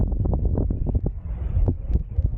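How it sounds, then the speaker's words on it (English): Strong wind at Dry Tortugas National Park buffets the microphone in low, gusty rumbles, loud and close throughout the short stretch. "I know it's a little windy"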